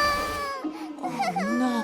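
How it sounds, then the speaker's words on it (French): A cartoon baby wails in a short, loud, tonal cry that wavers in pitch and carries on without a break. "Ne pleure plus, mon bébé."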